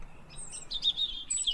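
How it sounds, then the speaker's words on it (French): Birds sing at sunrise in a steady, faint chorus of high chirps and thin whistled notes, sounding some distance away with a soft background hush and no voices. "Et les oiseaux sont repassés en mode super fort"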